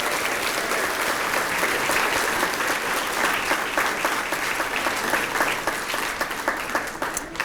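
Sustained applause from an audience honoring students at a school hero awards ceremony, dense and steady clapping throughout, easing slightly near the end.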